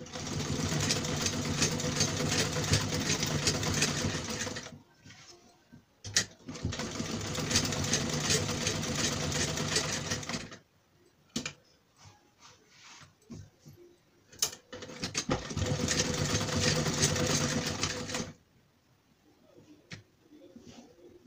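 A sewing machine stitches a strip neckline on a kurta in three loud, close bursts of rapid whirring, separated by quiet pauses with light handling clicks.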